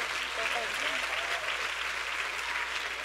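Church congregation applauding, a steady wash of clapping from a large crowd with faint voices mixed in.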